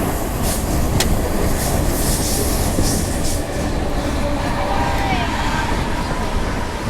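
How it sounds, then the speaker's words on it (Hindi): Brindavan Express passenger train rounding a curve on its run toward Chennai Central, with a loud, steady rumble of wheels and carriages heard from on board and faint squealing from the wheels on the bend. "इधर ट्रेन भी कर्व लेता हुआ लेके जा रहा है हम लोगों को चेन्नई सेंट्रल की ओर"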